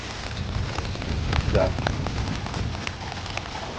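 Steady broadband rush of heavy rain and wind at an outdoor Lao New Year festival in Dallas, Texas, with scattered sharp crackles and a brief swell midway; faint voices murmur underneath.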